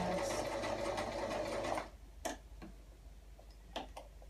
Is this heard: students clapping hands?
no